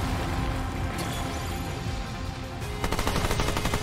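Sniper gunfire in the video game Remnant II, loud close shots over a rumbling background, ending in a quick rattling burst of rapid fire.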